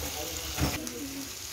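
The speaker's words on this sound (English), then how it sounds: "So we're just frying it, basically garlic and onion" Skipjack fish frying in a pan with garlic and onion, a soft steady sizzle close by with a brief stir or clatter partway through, a voice faintly present in the background.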